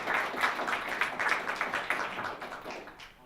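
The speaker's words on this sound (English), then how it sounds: "Yes, applause first." Audience applause at a game-development conference talk on community building, a dense patter of many hands clapping from a seated crowd that gradually thins and fades out toward the end.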